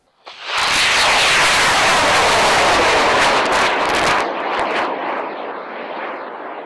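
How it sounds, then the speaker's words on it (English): A large amateur rocket motor ignites and launches at a rocketry event, a sudden loud roaring blast that holds steady for several seconds before cutting off and fading into a lingering distant rumble. "Once the motor ignites, there's no shutting it down."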